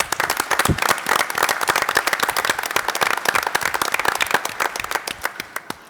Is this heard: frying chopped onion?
no